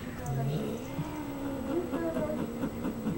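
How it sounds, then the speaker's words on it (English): A cat purrs and gives short meowing cries while being petted, close by, as a person talks softly over it. "Pat her a little harder."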